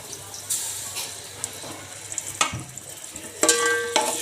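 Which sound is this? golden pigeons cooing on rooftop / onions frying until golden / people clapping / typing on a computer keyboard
onions frying until golden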